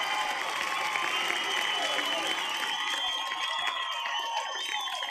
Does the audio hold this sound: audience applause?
yes